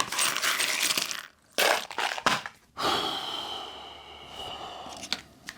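Small metal bolts clatter and rattle in bursts as they are sifted and handled, with brief pauses between handfuls, close by and fairly loud.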